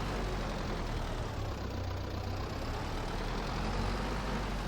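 Small tractor engine in Farming Simulator 22 hauling a heavy bucket of rock: a steady, low droning hum that holds even and unbroken throughout, with no voices.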